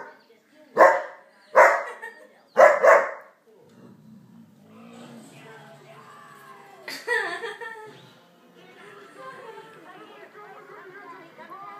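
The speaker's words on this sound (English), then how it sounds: "Don't bark at Barack." A dog barks three times in quick succession, loud and close, then people chatter and a voice speaks over a quieter background.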